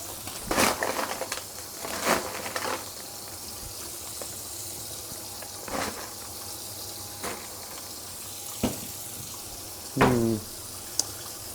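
Water from a kitchen tap splashes into a home sink as carrots are rinsed, coming in short separate bursts with a few sharp clatters and knocks between them.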